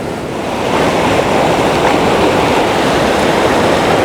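Ocean surf washing up on a beach at Blue Lagoon, NSW, Australia at sunrise, a steady loud roar of breaking waves with wind buffeting the microphone throughout, no voices.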